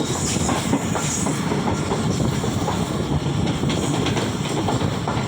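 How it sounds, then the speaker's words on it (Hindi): The 15 Up Karachi Express runs along the main line, a loud, steady rumble of rolling wagons with rhythmic clickety-clack of wheels over rail joints, close by and continuous throughout, with no talking. "15 अप कराची एक्सप्रेस जा रही है मेन लाइन पे"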